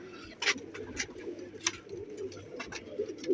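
Pigeon cooing in soft low bursts repeated through the moment, a close-joint pigeon held near at hand, with a few sharper rustles and clicks above it and no voices.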